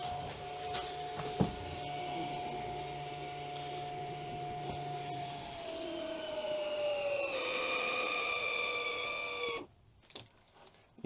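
Caravan mover motor on a trailer hitched behind a Ford Kuga Hybrid AWD tow car, a steady loud electric whine that rises in pitch partway through, then cuts off abruptly near the end, leaving quiet clicks.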